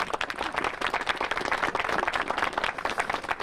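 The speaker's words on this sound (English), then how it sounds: "let's give everyone a round of applause for coming." An audience at a City of Albuquerque civic event on climate change breaks into applause, a dense, continuous patter of many hands clapping nearby, lasting a few seconds with no talking.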